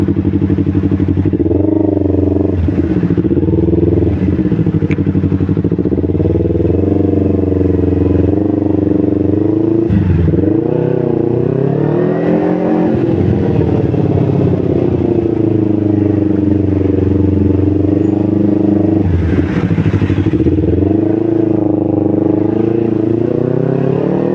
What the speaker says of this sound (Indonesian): Jalanan macet.